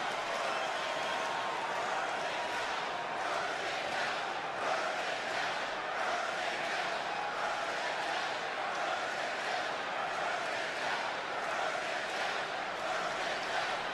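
A capacity arena crowd in the WWE 2K video game, at an AEW Dynamite show in Washington, keeps up a loud, steady roar with rising and falling cheers throughout.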